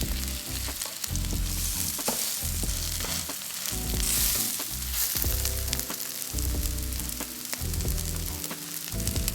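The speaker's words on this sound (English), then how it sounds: "cook sesame on the frying pan with a little bit of oil." Sesame seeds frying in a little oil in a frying pan while Korean-style pancakes are cooked, giving a steady close sizzle and crackle with occasional louder pops and stirring clatter.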